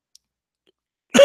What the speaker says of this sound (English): Coughing. Had to cough.